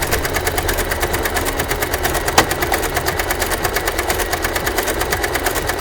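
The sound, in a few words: sewing machine with ruffler attachment making pleats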